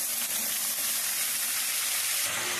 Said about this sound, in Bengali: এখন আমি পেঁয়াজ বাটাটা দিয়ে দেব।